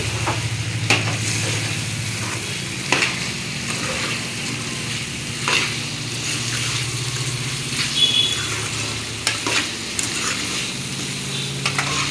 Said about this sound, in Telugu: ఇప్పుడు ఈ చికెన్ని అడుగంటకుండా గరిటెతో మంచిగా తిప్పుకోవాలి.